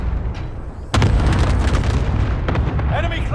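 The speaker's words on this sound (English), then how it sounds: "Tossing a frag!" A frag grenade detonates in a first-person shooter battle-royale match, a sudden loud boom with a rumbling tail that lingers under busy game noise.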